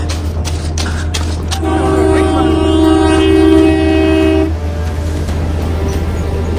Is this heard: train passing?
yes